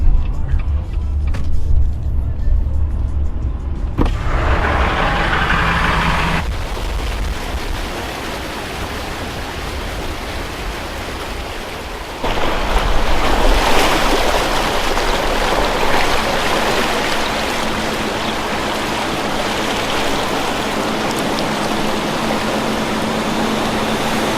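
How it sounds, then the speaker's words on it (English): A truck engine rumbles while floodwater rushes and splashes loudly around it, the surging noise swelling and continuing steadily. "For the sake of driving through water, I hope it is."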